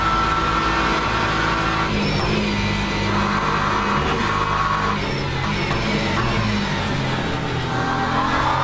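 Race car skidding with tires squealing in the Le Mans Ultimate racing game, a steady loud engine roar running throughout with scraping tire noise layered on top, no talk.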